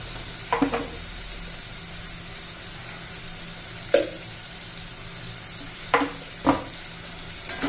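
Spiced masale bhat rice with tomato sautés in a pan, a soft continuous sizzle broken by a few scraping stirs of a spoon.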